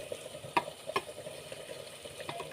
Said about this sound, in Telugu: ఇప్పుడు ఈ రొయ్యలన్నీ ఈ కర్రీలో వేసుకున్నాం.